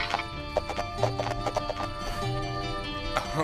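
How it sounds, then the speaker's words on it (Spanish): A horse's hooves clip-clop in a steady, close rhythm, mixed with a whinny and a soft musical backing in a Spanish-language animated series. "¡Es un caballo!"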